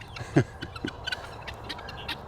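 Chickens clucking close by in short, soft, irregular bursts over low background noise.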